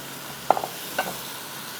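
Chicken going into a hot karahi makes a couple of brief metallic clinks and a short sizzle as it is stirred, followed by a quiet, faint hiss; no voices.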